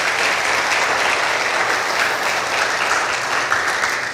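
A church congregation applauds during a worship service, with sustained, full clapping that fills the room at a constant level for several seconds.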